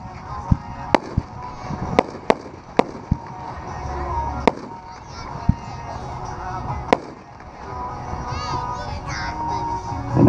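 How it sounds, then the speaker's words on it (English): Dominator Artillery consumer ball shells fired at an outdoor fireworks demo, with a series of sharp, loud launch thumps and bangs in an irregular rhythm, heard over crowd chatter and children's voices. "the first shell kit we're going to light tonight is number 102 on your list. It's Dominator Artillery, top shelf ball shells."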